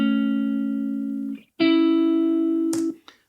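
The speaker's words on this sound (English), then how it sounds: "The next one is actually the guitar sound in the intro." Amped guitar lead tone from an intro: two long, steady sustained notes, the second slightly higher, each held over a second with a brief gap between, followed by a short noisy pluck, loud and close with no talking.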